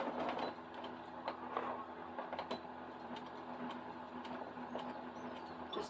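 A home sewing machine stitches a quarter-inch seam while piecing a spools-and-stars quilt block, a steady mechanical whirring hum with faint clicks, running continuously at close range with no talk.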